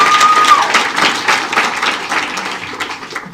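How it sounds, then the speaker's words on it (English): Audience clapping at a Mandela tribute event, a burst of applause that fades gradually over a few seconds. "You have to clap for them, please."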